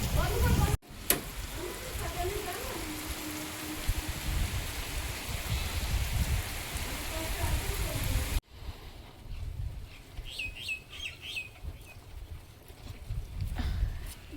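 Heavy rain pours down in a steady broadband hiss for most of the stretch, then gives way to quieter dripping and patter. Voices talk faintly at times.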